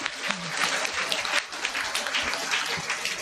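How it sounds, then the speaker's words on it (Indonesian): A crowd claps steadily and loudly throughout at a school report-card and award ceremony, a dense wash of applause with a voice briefly audible beneath it. "tepuk tangan lagi"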